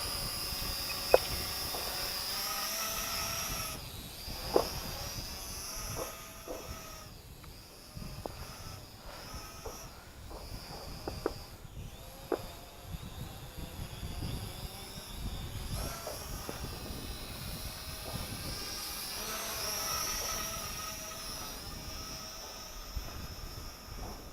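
An SJRC S30W GPS drone with a failed motor flies outdoors, its thin whining motor hum rising and falling at a moderate distance, with faint insect-like background noise and occasional knocks.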